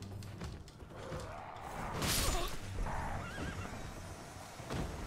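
A horse in the video game Elden Ring, played on Xbox Series X, lets out a loud whinny midway, with hoof clip-clops and other game sounds around it.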